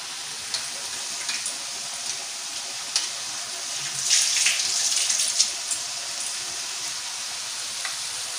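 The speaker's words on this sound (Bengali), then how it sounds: "আর এখন চালটা একটু ধুয়ে নিচ্ছি" Rice is washed in water, giving a soft, continuous swishing and trickling with faint splashes and a brief louder swirl midway, quiet and close, with no talking.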